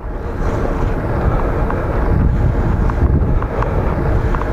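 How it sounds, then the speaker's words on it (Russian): Strong wind rushing and buffeting the microphone during a night fixed-gear bicycle ride in Saint Petersburg, a loud continuous roar with no break. "ветерок нормально прям"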